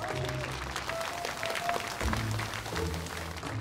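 Applause breaks out to welcome the groom at a wedding ceremony, a steady wash of clapping from a gathered crowd over a few seconds, with background music tones beneath it.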